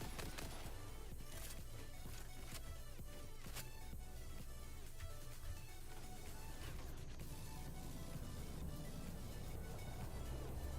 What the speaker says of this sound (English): get in the train.